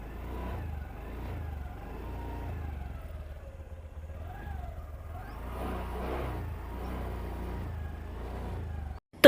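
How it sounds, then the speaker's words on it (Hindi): Scooter engine on its double stand revving as the accelerator is slowly turned, a steady mid-pitched hum rising and falling in waves, close by with no talking. "अब ये जो एक्सीलेटर है इसे आपको घुमाना है, धीरे धीरे करके इसे मूव करना है।"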